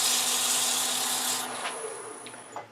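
Sandpaper pressed against a spinning wooden ring bowl on a wood lathe gives a loud, steady broadband hiss for over a second, then it drops away to a softer whir with a few faint scrapes.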